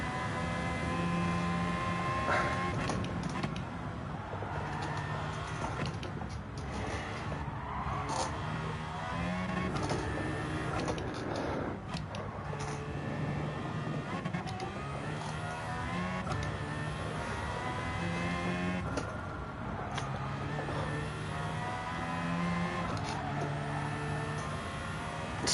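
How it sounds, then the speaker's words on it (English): A V12 car engine in Gran Turismo 7 revs and shifts through gears, producing a layered mechanical whine and rising and falling drone that runs throughout, with no talking. "Spare a moment to listen to this noisy V12 engine sing."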